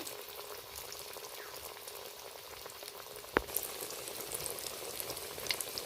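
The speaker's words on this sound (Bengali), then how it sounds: "কুমড়ো ফুলের বেশি তেলে ডিপ ফ্রাইটাও আপনাদের দেখিয়ে দিচ্ছি" Pumpkin flower pakoras in batter deep-fry in plenty of hot oil, giving a steady, dense sizzle throughout with one sharp click partway through and slightly busier crackling afterward.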